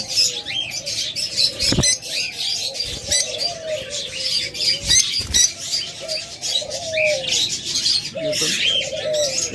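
Lovebirds, a pair, call in a dense stream of high chirps and tweets, with occasional soft coos and brief wing flutters close by, steady and fairly loud throughout.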